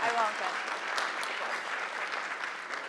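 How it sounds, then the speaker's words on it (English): Applause from a West Coast audience at a leadership panel discussion and workshop, a steady wash of clapping that runs the whole stretch with faint voices mixed in. "Let's give the West Coast crowd a applause."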